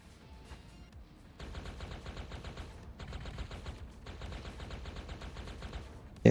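Video game gun with a large magazine firing rapid automatic bursts, two long sustained streams of shots with a short pause between them, after a quieter opening.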